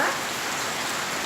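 Steady rain falling behind a house among plants in the rainy season, a dense, even hiss of drops on surfaces, close and continuous, with no voices.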